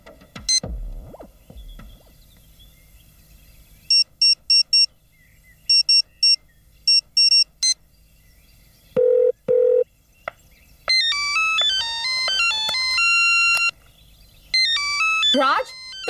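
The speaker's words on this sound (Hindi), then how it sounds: "Raj, तुम मुझे फोन कर रहे हो?" Electronic phone tones: beeping dial pips, then a long melodic ringtone playing loudly, with faint clicks and brief noises between.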